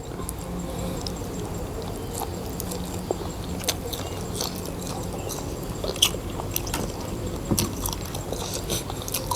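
Close, crunchy bites into raw chili and garlic while eating spicy beef, followed by steady chewing with scattered sharp crunches and no talk.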